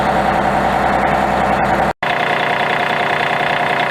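An engine idles after a cold start in below-zero weather, having been warmed with a block heater, running loud and close with a steady rumble broken only by a split-second gap.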